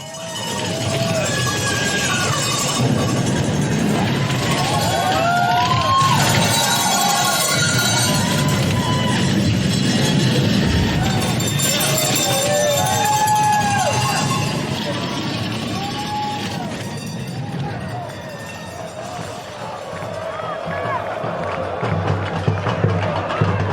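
A Premier League football stadium crowd cheers in a broad, continuous mass, swelling and dipping with scattered whistles and shouts rising out of it, then building again toward the end.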